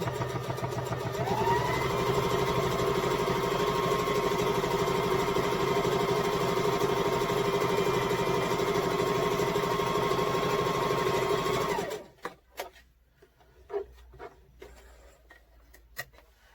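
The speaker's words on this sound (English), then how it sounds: "you can kind of follow that line for your guide for where to sew." Sewing machine stitching a seam on a fabric mask, a steady fast mechanical whirring and ticking hum running continuously for about twelve seconds, then stopping, followed by a few faint clicks and handling sounds.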